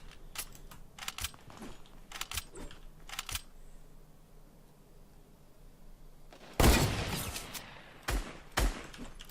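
Sniper shots in the video game Fortnite ring out amid a string of sharp clicks and taps, with one loud, sustained blast near the end followed by a couple of smaller bursts.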